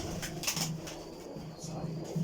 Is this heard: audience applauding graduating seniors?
no